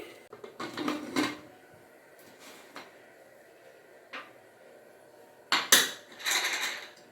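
A metal pressure cooker lid is handled and closed over mutton head curry, giving a series of scattered clanks and knocks, with two louder clatters near the end in a quiet kitchen.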